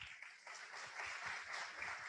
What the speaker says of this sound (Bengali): আপনারা নিজেরা নিজেদেরকে জোরে একটি করতালি দেন